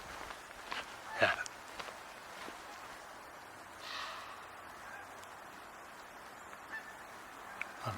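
Faint, distant goose honks sound a few times against a quiet outdoor background on a wet day of early first snow, with a louder call near the start.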